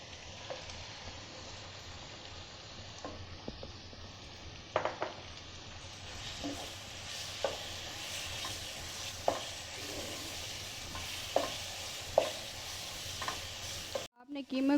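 Minced chicken keema frying in a pan with ginger and garlic, a steady close sizzle broken by the scrape and clink of a spoon stirring against the pan, with no voices.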